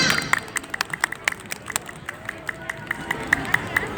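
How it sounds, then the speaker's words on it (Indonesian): An audience at an International Women's Day gathering in Hong Kong claps in a scattered, uneven patter of individual hand claps over soft crowd murmur, moderately close. "tepuk tangan buat kawan-kawan yang sudah datang dari AMCB dan juga tepuk tangan buat diri kita semuanya"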